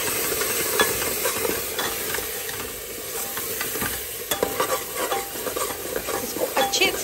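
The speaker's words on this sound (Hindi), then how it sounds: "इसको अच्छे से चलाते रहिए जब तक कि ये टमाटर अच्छे से मैश ना हो जाए और हमारे मसाले अच्छे से भुन के खुशबू ना देने लगे।" Spices and tomatoes stirred steadily in a pan for a Punjabi-style bottle gourd curry, a continuous close sizzle of frying with scraping spoon strokes throughout, no voices.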